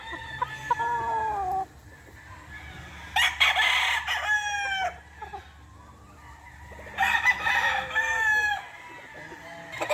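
A Lazy Roundhead gamefowl rooster on a game farm crows twice, each time a loud, drawn-out call, with softer clucks from other fowl and quiet gaps between the crows.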